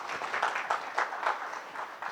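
Audience applause after a corporate presentation, with quick bursts of clapping that swell and dip in a loose rhythm, fairly faint and brief in a hall.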